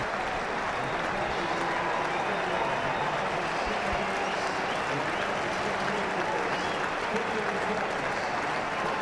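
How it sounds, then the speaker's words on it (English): Cricket crowd at a 2019 World Cup match between Australia and Sri Lanka applauds Aaron Finch reaching 150, a steady, full wash of clapping and crowd noise that holds throughout at even loudness. "Good applause from the crowd as well."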